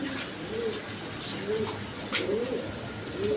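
A room packed with pigeons fills with repeated rising coos, several birds calling at once over a low flock murmur, near and moderately loud.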